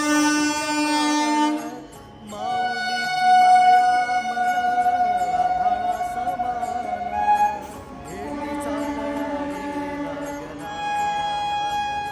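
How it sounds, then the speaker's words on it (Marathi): A train passes near Dive Ghat during a palkhi procession, its horn sounding in long, loud, tonal blasts that rise and fall over about twelve seconds. "रेल्वे आली म्हणून"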